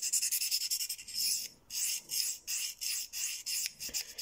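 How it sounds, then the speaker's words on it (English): A knife is hand sharpened on a stone in repeated rasping strokes, each a short gritty scrape separated by brief pauses, close up and fairly quiet. "when I'm sharpening on this side, I'm pulling the metal over the top of the knife"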